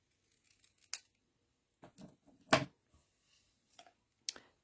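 Scissors trim paper for card making in several quick, separate snips with quiet pauses between them, close and fairly faint.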